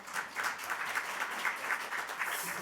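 An audience at a National Assembly forum applauds for an opening speaker, giving a steady, moderately distant patter of many hands clapping with no voices on top.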